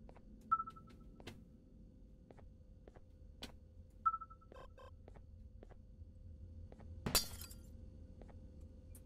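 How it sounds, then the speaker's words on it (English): Glass shatters once with a bright broadband crash inside the Garten of Banban 2 video game, preceded by a few soft beeps and clicks over a quiet hum. "Those are some big shards of glass"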